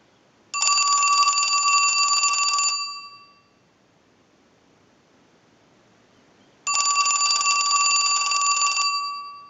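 A Western Electric Trimline telephone rings twice from an analyzer-sent ring cycle, each loud, bright electronic ring lasting about two seconds, separated by a long silent gap.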